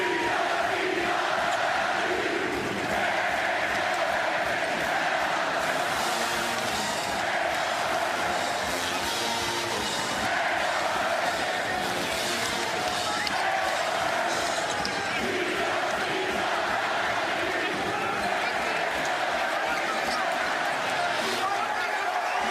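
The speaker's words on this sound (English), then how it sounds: "The tip dunk and the crowd going crazy." A basketball arena crowd roars loudly and continuously after a tip dunk off an offensive rebound, with sustained cheering and ball bounces under a commentator's voice.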